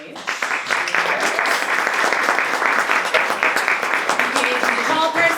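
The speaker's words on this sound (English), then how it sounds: "keep applauding" Audience at a poetry reading event clapping steadily for several seconds, dense and close, with voices mixed in.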